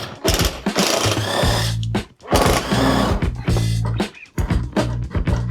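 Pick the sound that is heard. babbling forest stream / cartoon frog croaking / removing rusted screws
removing rusted screws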